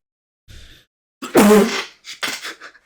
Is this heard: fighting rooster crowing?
no